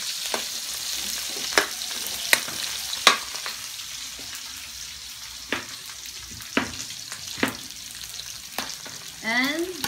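Garlic and onion sizzle steadily in a hot pan, with a continuous frying hiss broken by sharp stirring clicks and scrapes of the utensil, close up.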